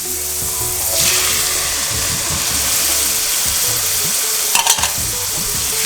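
Chopped tomato and green chili hit a hot pan and fry with a steady, loud sizzle, and a brief burst of stirring and hissing sounds near the end.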